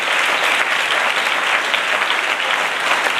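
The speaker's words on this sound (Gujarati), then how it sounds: "ઘોઘરા તાળીઓથી આ સભાખંડને ભરી દઈએ" Dense applause fills an assembly hall at an Ayurveda talk gathering, a steady, loud wash of many hands clapping together without a break.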